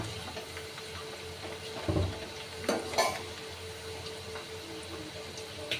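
French fries deep frying in oil over a medium flame, a steady hiss of sizzling broken by a few sharp clanks of a utensil against the pan.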